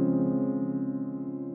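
Sustained piano notes from a Decent Sampler piano instrument, spanning F up to the next F, ring out steadily and fade gradually with a close, clean tone and no voices.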